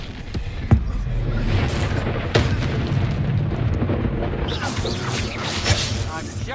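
An Expulso exploding spell cast during a Hogwarts Legacy duel: booming blasts and crashing impacts, one sharp hit early and another around the middle, over continuous loud combat rumble.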